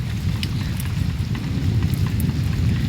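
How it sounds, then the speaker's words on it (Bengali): Steady heavy rain as a dense, constant hiss with occasional louder drops, no voices. "সেই যে বৃষ্টি ঝুম বৃষ্টি এগারোটা থেকে"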